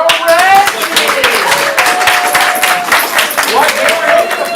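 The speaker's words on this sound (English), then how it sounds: "Please keep the applause going for the captain of the red team." Audience clapping and cheering for a team captain at a ComedySportz improv comedy show, steady dense applause throughout, with a loud voice speaking over it.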